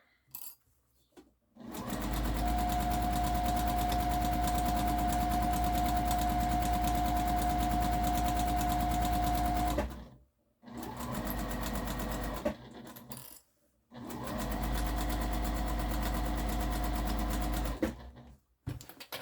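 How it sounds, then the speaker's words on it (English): A sewing machine back stitches an apron in three runs, a long steady whir followed by two shorter bursts, each separated by brief silences, close and clear, with no voices. "Back stitch again, and finish up to the other side of the apron."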